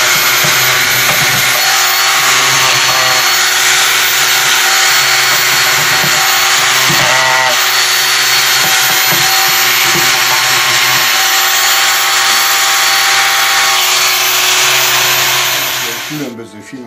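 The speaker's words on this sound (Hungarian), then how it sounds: "ilyen delta csiszolóval." A delta sander works over a carved wooden grave post (kopjafa) in a steady, loud continuous whir with a rough buzzing texture, running nearly without pause for about sixteen seconds before cutting off at the end.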